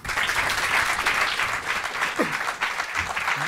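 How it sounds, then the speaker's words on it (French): An audience applauds at a French evening show, a dense sustained clapping from a hall crowd that runs throughout, with a brief vocal sound near the middle. "Je vous demande d'applaudir le jeune Paul Minero"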